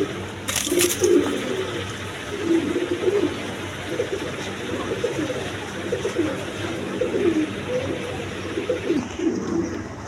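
Pigeons at a pigeon sale coo continuously in soft, repeated low calls that overlap against a busy background hum.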